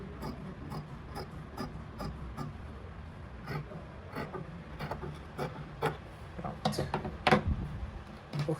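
Scissors cut lining fabric for a crochet bag in a string of short, crisp snips and rubbing sounds, close and fairly quiet, with no talking.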